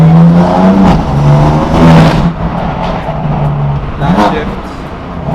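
BMW M4 with a straight-pipe exhaust revving loudly under throttle, a close, harsh engine drone rising and falling with a shift, while people talk over it.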